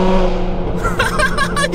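Jaguar F-Type S with 482 HP, air suspension and a loud modified exhaust, running with a steady low engine rumble that rises into bursts of revving; a voice talks briefly underneath.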